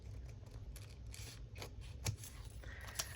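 Scissors snip through a thin paper strip during a creative journaling session, a few quiet crisp cuts standing out from a soft background hiss.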